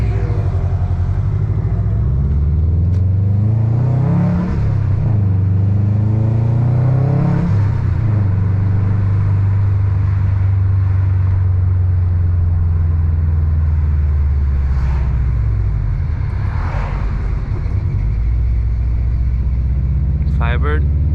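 A 350 hp Subaru WRX STI pulls hard while driving, its loud engine note climbing steadily through the revs in repeated surges, with a deep rumble underneath throughout.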